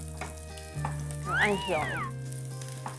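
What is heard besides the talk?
garlic stir-frying in a pan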